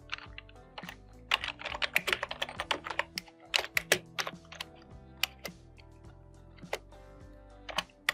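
Keystrokes on a computer keyboard come in irregular bursts of quick taps with brief pauses, fairly quiet and close, with no one speaking.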